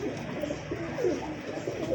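High flier pigeons coo in soft repeated throaty calls, several overlapping, close by over a steady background hum, with no talking.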